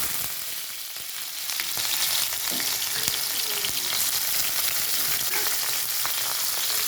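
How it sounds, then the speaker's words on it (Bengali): Onions fry in hot mustard oil in a wok, a steady close sizzle with scattered crackles and pops running throughout, no voices. "পেঁয়াজটা ভাজা ভাজা হয়ে গেছে"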